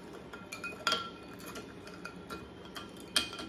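A metal spoon taps and clinks against a Nutella jar in a quiet room, a scattered series of faint, sharp ticks with a few louder ringing chinks, no talking.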